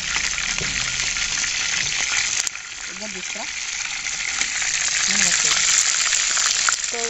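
Chicken leg pieces fry in a pan with a steady, bright sizzle throughout, broken by a few soft clinks and stirring sounds.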